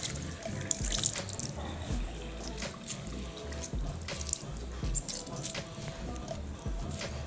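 Water runs and splashes at a salon sink while hair is rinsed, a steady close trickle and spatter with soft handling noises throughout.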